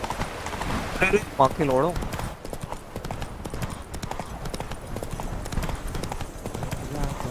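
Hooves of the horse Roach pounding in a gallop in The Witcher 3, a fast rhythmic clip-clop under game sounds and someone talking and shouting over it.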